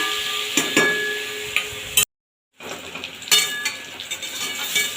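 Papaya pieces frying in oil in a pan, a steady close sizzle with occasional stirring clinks, broken by a brief cut to silence midway before the sizzling resumes.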